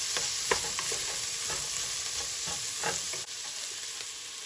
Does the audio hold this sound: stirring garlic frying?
yes